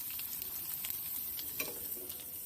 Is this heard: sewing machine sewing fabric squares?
no